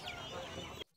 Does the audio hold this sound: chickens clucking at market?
yes